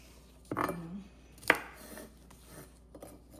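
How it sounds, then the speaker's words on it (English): Two sharp knife strikes on a cutting board as fresh okra is cut into small pieces, the first a short scraping chop, the second a crisp single thud, with faint quieter taps afterward. "you cut them into little pieces, different shapes"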